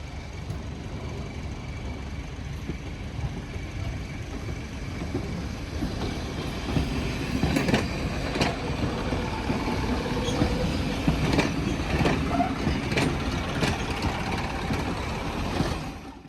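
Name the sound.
restored railway brake van rolling on rails after a push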